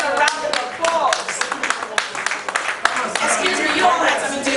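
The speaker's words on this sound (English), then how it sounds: "let's give them a round of applause" An audience at the inaugural convention of Nigerian sports journalists in the diaspora claps in an uneven patter of applause with crisp individual hand claps, and people talk over it.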